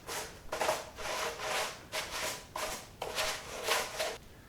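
A brush scrubs damp car carpet in five or six rhythmic strokes, each a rough bristly rub lasting about half a second, close up and moderately loud with brief pauses between passes.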